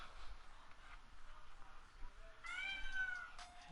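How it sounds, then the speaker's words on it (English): A house cat meows faintly in the background at the close, a couple of short rising calls over low room noise and video game sound. "Shut up, cat."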